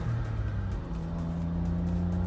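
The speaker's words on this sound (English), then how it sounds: "Changing gears is rough as hell" A cheap roadster's engine hums loud and close as it changes gears roughly, with a steady droning tone shifting slightly in pitch partway through, and no voices.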